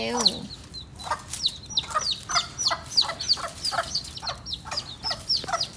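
Several hens cluck repeatedly in short bursts close by, with sharp chirpy calls over a busy yard background and no speech.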